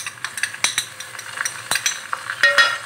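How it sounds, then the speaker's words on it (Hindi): Ginger and garlic hit browned onions in a pan for an eggplant, pea and potato curry, giving a soft sizzle under a spoon that scrapes and clinks against the pan in quick, irregular strokes. "प्याज तकरीबन ब्राउन हो चुकी है, अब हम इसमें डालेंगे लहसुन अदरक"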